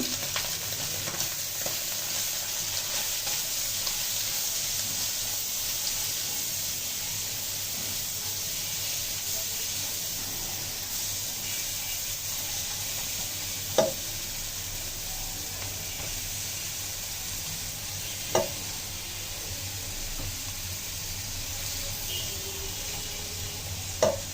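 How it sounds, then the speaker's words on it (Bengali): Shredded cabbage stir-fries in a pan with red and green chilli, giving a steady close hiss and sizzle throughout, with a few sharp clicks of a utensil against the pan. "এটা এখন দিয়ে দেবো সবজিটা, বাঁধাকপি কুচি"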